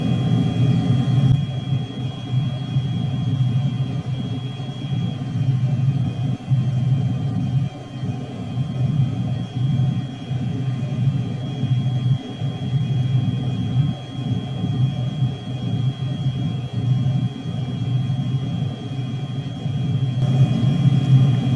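A simulated de Havilland DH.112 Venom jet with a Ghost engine climbs out with flaps up in Microsoft Flight Simulator. A steady, heavy low rumble and whir of thrust holds near-constant throughout.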